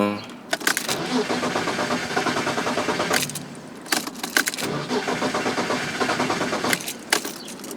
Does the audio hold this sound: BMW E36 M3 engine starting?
yes